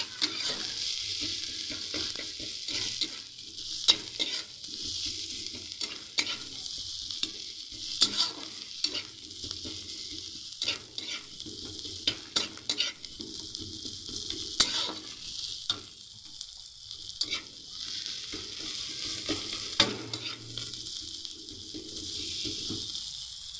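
Chopped ginger with turmeric powder fries in a pan for a Kashmiri aloo dum, a continuous close sizzle broken by repeated scraping stirs of a utensil against the pan.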